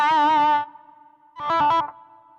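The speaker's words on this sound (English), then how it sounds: "Guessing maybe that's a pedal wah." Zoom GFX 707 guitar multi-effects pedal on a wah setting, a distorted electric guitar note sweeping in tone, then a second wobbling burst after a brief fade, loud and alone.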